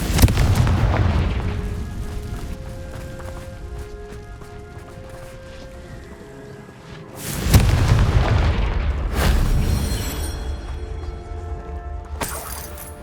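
Confringo blasting-spell explosions in Hogwarts Legacy on PS5: several heavy booms with shattering crackle, roughly four blasts spread over the span, separated by calmer stretches of sustained game music tones.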